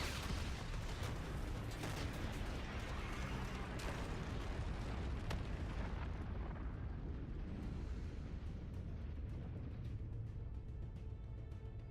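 Repeated heavy explosions from a De-Atomizer strike in the video game Call of Duty: Infinite Warfare roll together into a loud, continuous rumbling barrage that thins out and fades toward the end.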